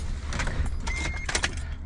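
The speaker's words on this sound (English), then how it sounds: "Let me get the keys for this one." Car keys jangle in brief metallic clusters beside a Daihatsu Mira, a few light rattles near the microphone over a low engine rumble, with no talking.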